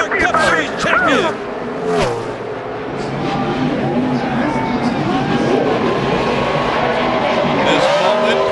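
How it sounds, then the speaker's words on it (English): A NASCAR Cup Series race car roars through a championship victory burnout in Miami, its engine revving in rising and falling sweeps amid a steady crowd wash. A commentator talks over it near the start. "And this might be one of the best burnouts we'll ever see"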